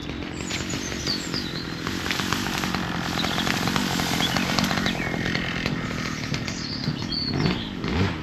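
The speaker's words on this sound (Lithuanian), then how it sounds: "Žolės pjauna darbininkai." A workers' power trimmer cuts overgrown grass in a park in Druskininkai, Lithuania, its engine giving a steady, loud, buzzing whine that runs the whole time with small shifts in pitch.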